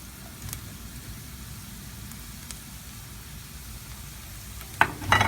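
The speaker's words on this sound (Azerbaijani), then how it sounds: "Köklə də bir qədər qovururuq." Chopped onions and carrots frying in a pan, a steady soft sizzle that carries on throughout, with a couple of light utensil clinks and a louder scrape near the end, and no voices.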